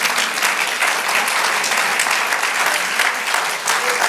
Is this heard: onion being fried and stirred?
no